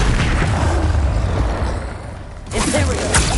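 A dense, loud blast from the Confringo fire spell in Hogwarts Legacy, with booming crackle throughout, a brief dip, then a second burst of explosive noise.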